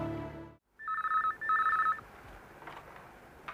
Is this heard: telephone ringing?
yes